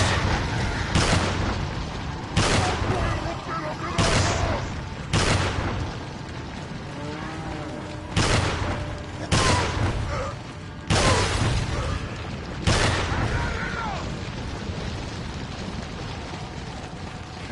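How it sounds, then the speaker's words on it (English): Hand cannon firing in Resident Evil 4, the original game: eight heavy, booming shots spaced one to two seconds apart, each loud and ringing out briefly, with no talking. "And then we have the hand cannon"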